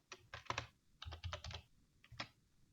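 Java code being typed on a computer keyboard, three short close bursts of crisp key clicks separated by brief pauses in a quiet room.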